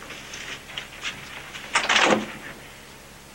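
A door opens in a 1988 television drama: a few faint taps lead into a short, scraping swish near the middle, followed by quiet room tone.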